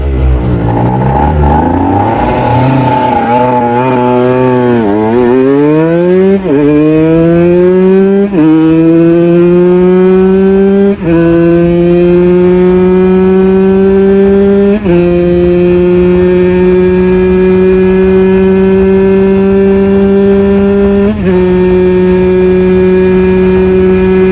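A 125cc two-stroke sportbike engine revs hard at high speed, its whining pitch climbing steeply through repeated upshifts, each gear change a brief dip before the loud buzzing tone rises again, continuous and close with no voices.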